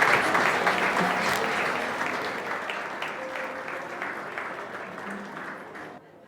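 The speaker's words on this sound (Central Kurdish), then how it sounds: "بە یەک چەپڵەی قایم پێشوازی لە دکتۆر سەرمەد قەزازکەین بۆ سەرستێشکار." Sustained audience applause welcoming a guest at a Kurdish gathering, a broad, steady clapping wash that slowly thins and cuts off near the end, with faint voices mixed in.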